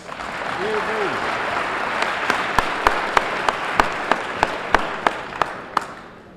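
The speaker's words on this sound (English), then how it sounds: "Give yourselves a round of applause." Scattered, spaced-out hand claps from an audience at a debate rise over a murmur of voices, then thin out toward the end.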